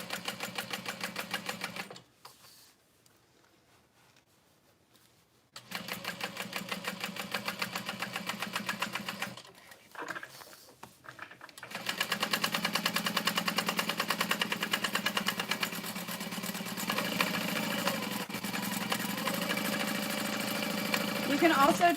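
A sewing machine topstitches around all sides of a handbag in several bursts of steady, rapid stitching, broken by short pauses, close and fairly loud.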